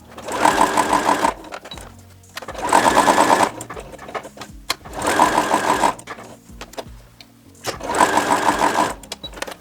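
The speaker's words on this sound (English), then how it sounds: "now we are going to sew all 4 sides of each of our squares" Sewing machine stitching all four sides of quilt squares for a pinwheel flower quilt block, heard as four loud, close bursts of rapid mechanical whirring separated by short pauses, with no talk.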